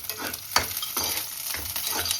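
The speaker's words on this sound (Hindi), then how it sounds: "जैसे ये थोड़ा सा फ्राई हो जाएगा" Onions being stir-fried for chilli soya in a pan, with a steady sizzle and several scraping strokes of a spatula, close and with no talk.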